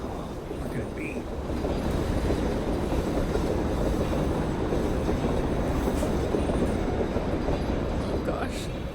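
Train wagon in the REVEIL video game, a continuous heavy rumble with rattling clatter and a faint squeal, steady and immersive throughout, with a voice speaking over it.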